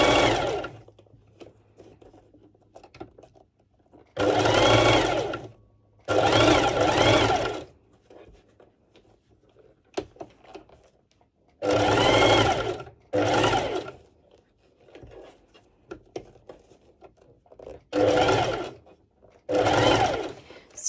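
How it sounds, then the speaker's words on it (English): A sewing machine stitches bikini top fabric in six or seven separate bursts of steady whirring, each a few seconds long, close and clear, with quiet pauses between runs. "I'll be sewing like would be on my left side"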